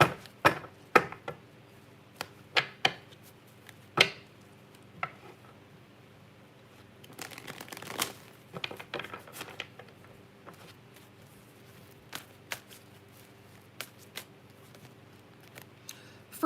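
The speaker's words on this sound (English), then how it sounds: "Let's do one more shuffle." Soft, irregular papery clicks and riffles of tarot cards being shuffled, quiet and close, with short bursts scattered through the stretch.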